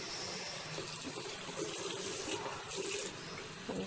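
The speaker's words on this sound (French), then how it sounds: "je prends ma serviette que je passe sous l'eau" Warm tap water runs steadily from a faucet over a bath towel held under the stream, a continuous close splashing gush with small shifts as the cloth moves, no voices.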